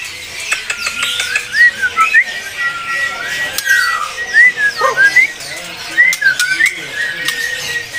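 Canary sings close by in a shop, with bright rising and falling whistled trills in repeated bursts over a busy background of other chirping birds.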